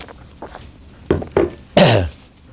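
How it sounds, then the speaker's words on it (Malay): A few short coughs, spaced out and close, ending in a louder, harsher cough. "Saya agak batuk."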